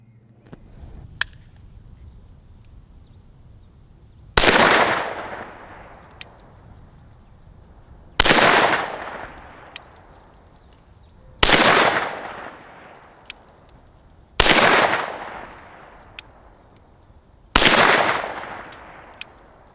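A KelTec Sub 2000 9mm rifle fires five loud, sharp shots over a chronograph, evenly spaced about three seconds apart, each crack followed by a decaying echo, with no talking between them.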